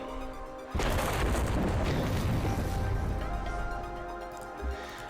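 Vikavolt's Electric Cannon attack effect in Pokémon TCG Online bursts in suddenly after a quiet tone, a loud booming electric blast with crackling noise that sustains and slowly fades, ending with a small thump.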